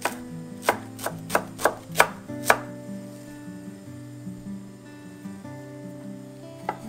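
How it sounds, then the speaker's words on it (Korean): Knife chopping rolled-up perilla leaves on a cutting board: seven sharp, evenly spaced chops near and clear in the first few seconds, then a quiet stretch with only a faint steady hum. "10장 정도 또르르 말아서 썰어서 넣어주시고요"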